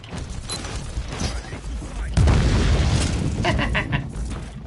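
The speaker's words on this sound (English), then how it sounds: "Frag grenade!" A frag grenade goes off in Warhammer 40,000: Inquisitor Martyr, a sudden loud boom about halfway through that sits on top of dense combat noise and rumbling game sound, followed by a sustained low roar.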